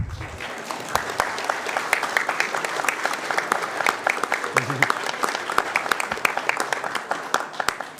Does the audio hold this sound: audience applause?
yes